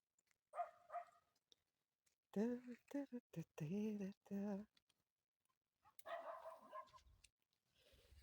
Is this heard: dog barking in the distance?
yes